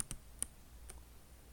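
Computer mouse clicks on a Linux desktop, four faint, crisp clicks within about a second and a half, close up over a low background hum.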